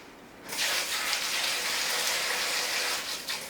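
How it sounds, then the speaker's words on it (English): Water gushes from a sink tap during handwashing, starting abruptly and then running as a steady, close hiss. "I'm going to wash my hands"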